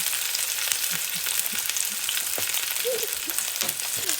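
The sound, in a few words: chicken breast and corn frying in a pan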